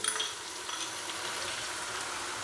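Steady sizzle of finely chopped large tomatoes dropped into hot ginger-garlic paste for a beef curry, a broad continuous frying hiss with faint stirring, close and even throughout.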